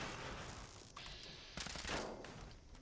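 Submachine gun fire in Fallout 76, aimed at robots: bursts of rapid automatic shots, fairly loud and close, with a short break before a denser volley near the end.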